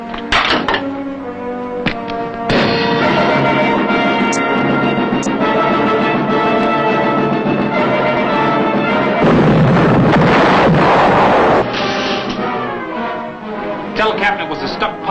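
A submarine fires a torpedo, a loud sustained rush and hiss with metallic clanks and thuds inside the hull, mixed with a tonal hum and overlapping voices.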